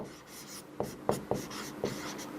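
Pen or chalk writing by hand during a class 10 maths lesson on irrational numbers, a steady scratchy stroking broken by several sharp taps as strokes begin, close and fairly quiet with no talking.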